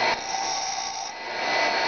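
A twist drill is hand sharpened against a grinding wheel, giving a close, steady, harsh grinding hiss that runs without a break and with no voices.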